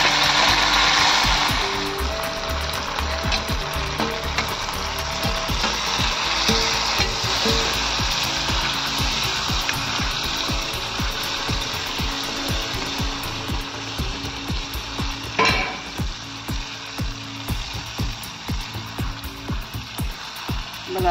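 Fenugreek leaves sizzle and fry with garlic and chili in a pan over a wood-fired stove, a dense continuous crackle with occasional stirring scrapes, loud and close throughout.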